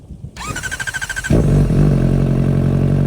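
A motorcycle fitted with a new exhaust starts up with a short cranking chatter and then settles into a loud, close, steady idle with a deep, throbbing rumble.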